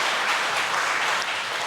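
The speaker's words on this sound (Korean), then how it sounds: "서로 격려하고 그리고 또한 위로하는 박수 한번 더 하십시다." Church congregation applauding during a Wednesday worship service, a steady, dense wash of many hands clapping close by throughout, with no talking over it.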